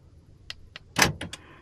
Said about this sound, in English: So the door's locked